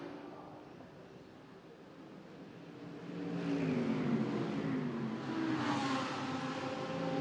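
GT3 race cars accelerating away from the pit lane at the Macau Grand Prix circuit, engines rising in pitch and swelling louder as they pass at moderate distance.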